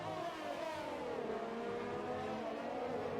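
Sim racing game cars on a Singapore Grand Prix street circuit, a continuous high-pitched engine whine that shifts slowly in pitch, fairly steady and not too loud, with no voices.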